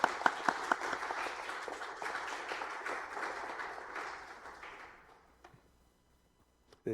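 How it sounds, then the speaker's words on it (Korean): A church congregation applauds, a few sharp opening claps swelling into brisk, even applause that fades away after about five seconds, leaving near-silence before a final soft sound. "박수로 하나님께 영광 돌리겠습니다"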